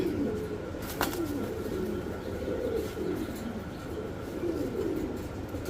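Pigeons coo steadily at close range, a soft repeated rolling call that comes from a red-shade Lakkha pigeon pair in a pigeon sale setting, over a constant low background hum.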